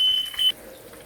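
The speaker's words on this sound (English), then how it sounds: "my fire alarm is going to be the death of me." A smoke alarm beeps sharply in a kitchen during fish frying, a high steady tone sounding twice in quick succession for about half a second, then cutting out and leaving quiet room noise.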